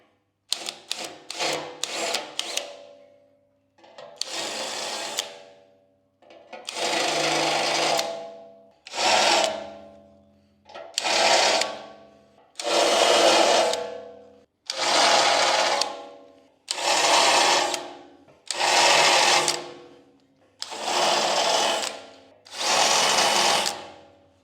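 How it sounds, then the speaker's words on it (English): A drill bit one size larger deburrs a bolt hole during work on a first-generation Toyota 4Runner, running in repeated bursts of two or three seconds with short pauses between them, close and fairly loud, with no talk. "I'm just going to use the next size up to gently deburr the hole."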